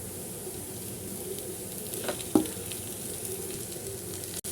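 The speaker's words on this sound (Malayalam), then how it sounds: "നമുക്കിനി ഈ ഉരുളക്കിഴങ്ങ് ഉടച്ച് വെച്ചത് ഇട്ട് കൊടുക്കാം." Mashed potato with ground cumin and spices sizzling steadily in a hot pan, a soft continuous frying hiss with a couple of brief stirring scrapes and a faint clatter at the end.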